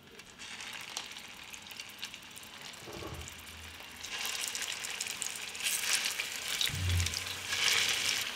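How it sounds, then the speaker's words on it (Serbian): Hot oil sizzles and crackles steadily, growing louder as meatballs go in, with a couple of low thuds and scraping sounds. "Ulje se zagrejalo i spuštam ćufte i pržimo ih."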